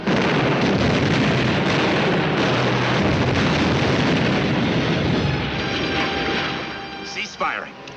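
Tank guns firing at a German Panther tank in a WW2 battle in France, a dense, loud barrage of booming blasts and rumbling that fills the clip before trailing off, with shouted voices underneath.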